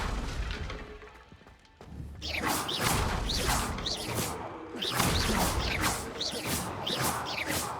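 Bombarda and Confringo explosion spells in the video game Hogwarts Legacy: a string of loud booming blasts with whooshes and crashing impacts, following a quieter stretch, with a voice heard around them.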